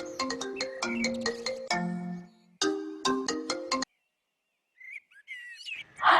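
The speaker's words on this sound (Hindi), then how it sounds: "किसका फोन आने लगता है रास्ते?" A bright, melodic phone ringtone plays in two bursts, loud and close, then stops; a short chirpy electronic tone follows.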